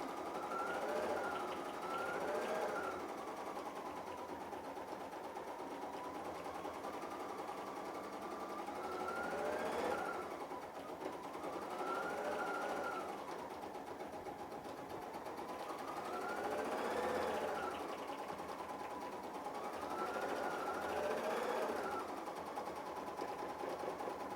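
A Bernina 880 embroidery machine stitches a design in a fast, steady mechanical whir, its tone rising and falling in a repeating pattern, continuous and close with no talk.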